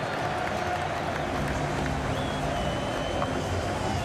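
Cricket stadium crowd in a Pakistan versus South Africa one-day international applauding and cheering after sixes, a dense, steady roar of clapping and voices at a distance with no clear talk.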